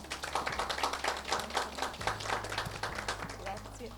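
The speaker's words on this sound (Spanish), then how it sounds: "quiero pedir un fuerte aplauso para ella" An audience claps in applause for an Italian author at a Spanish-language book talk, a steady run of close, rhythmic handclaps over a low background hum.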